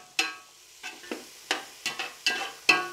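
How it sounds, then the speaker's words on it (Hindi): Onions and cinnamon pieces sautéing in a pan for chicken mandi, with a series of sharp scraping stirs, about eight distinct strokes in a loose rhythm over a soft sizzle, close and clear with no talk. "इन सब को मैं सौते करूंगा इन प्याज़ों को हमने सुरख नहीं करना महज नरम करना है"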